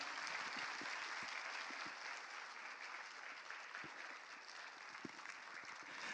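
Steady, dense applause from a church congregation at a Korean prayer service, sustained and even throughout with no talking.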